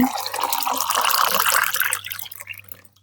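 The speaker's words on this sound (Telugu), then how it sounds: "మైక్‌లో వాటర్ పోసే సౌండ్ బాగా వినిపిస్తుందా?" Hot water being poured into a cup or glass close to the microphone: a continuous liquid pour that fades out toward the end, with a low steady hum underneath.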